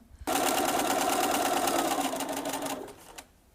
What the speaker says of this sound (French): On a épinglé et on va coudre les deux côtés